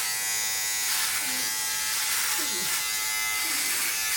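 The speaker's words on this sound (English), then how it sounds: "it is a trimmer, so I can actually just kind of go straight in on things" A Philips Norelco OneBlade electric trimmer buzzes steadily at close range while cutting hair, a continuous high whine under a voice.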